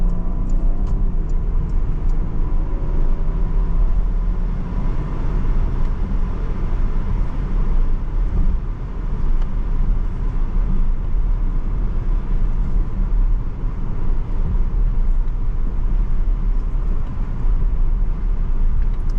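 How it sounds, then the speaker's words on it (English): A 2023 Porsche Panamera driving through city streets, heard as a steady low engine and road rumble from inside the car, continuous and even with no talking. "me driving the car here is actually what the car was made for"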